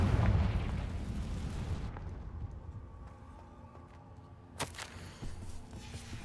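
In the Hogwarts Legacy video game, the Confringo fire spell detonates in a loud, rumbling blast that fades into a quieter hum, followed by a sharp crack and a smaller thud near the end.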